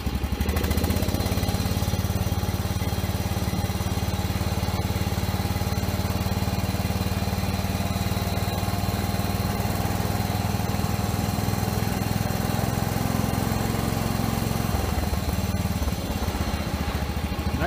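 A small engine idles steadily after starting, a continuous close, rough running drone that holds for most of the span, then drops slightly in pitch near the end, with no talk.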